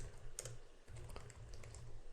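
Typing on a computer keyboard while writing a headline in a document editor, with a close, quick run of light key clicks that pause briefly and resume.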